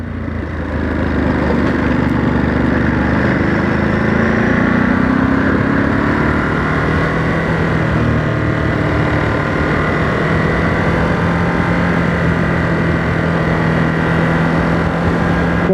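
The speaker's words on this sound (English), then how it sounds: "Riding the bike around these twisties," A 2023 Ducati Monster SP motorcycle rides through twisty roads, its engine a loud, steady rumbling drone with rising and falling revs through the bends, heard continuously up close with wind noise and no talking.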